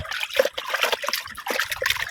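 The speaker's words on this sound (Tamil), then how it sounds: "ஒரு 2 கைப்பிடி அளவு உப்பு போட்டு நல்லா கழுவணுங்க." Fish being washed by hand with two handfuls of salt and water, giving a continuous close trickle and splash of water with small sloshes and wet rubbing, no talking.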